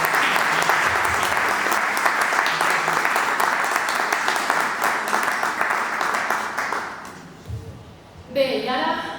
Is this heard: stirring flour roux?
no